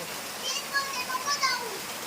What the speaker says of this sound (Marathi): पावसाची एवढी मोठी सर